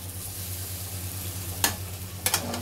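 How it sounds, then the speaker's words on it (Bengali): Egg fries with potatoes in an oiled pan under a continuous close sizzle, broken by a few sharp scraping stir strokes toward the end, with no talking. "এবারে আমি ডিম দেব।"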